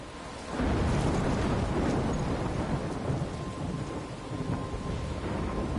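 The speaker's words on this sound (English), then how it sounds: "I'm trapped in a storm?" Heavy thunderstorm in the video game Life is Strange: steady loud rain with a deep rolling thunder rumble that swells after a brief quiet start and continues throughout, with no talk.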